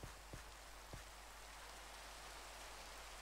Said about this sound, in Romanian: Plouă în continuu.